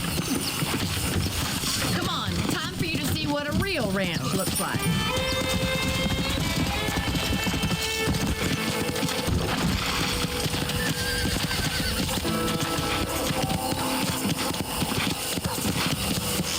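Horse hooves clip-clop steadily while riding on a ranch in Red Dead Redemption, mixed with game music and mechanical clatter, with a voice talking over the ride.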